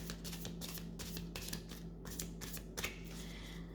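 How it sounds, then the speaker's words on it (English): Tarot cards being shuffled by hand, a steady run of soft papery riffles and flicks lasting several seconds over a low, constant background hum. "first let's clear the cards."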